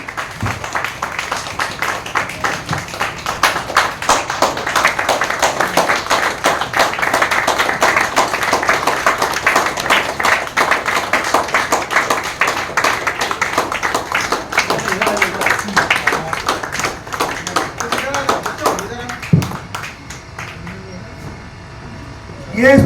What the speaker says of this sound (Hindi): जितने लोग खड़े हैं ताली बजाइए